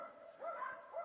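Distant hunting dogs give a couple of faint, drawn-out barks at a marten up a larch in a forest in Komi, thin and far away against a quiet background.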